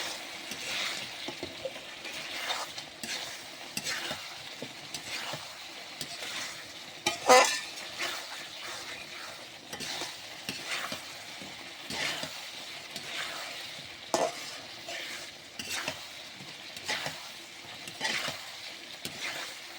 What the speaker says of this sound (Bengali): এটা ভালোভাবে কষিয়ে নেব।